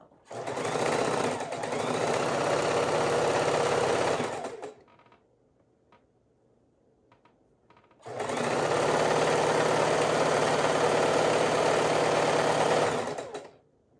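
Two long bursts of a sewing machine chain sewing quilt pieces, loud and close with a fast, even whir, separated by a few seconds of near silence with faint handling sounds.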